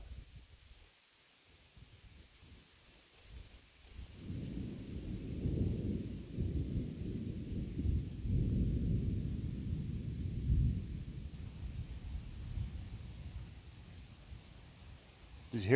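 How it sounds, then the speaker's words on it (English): Low, distant thunder rumbles and swells for several seconds on a hot day at a cabin, a faint continuous roll under quiet outdoor ambience with no talking. "That's some good thunder."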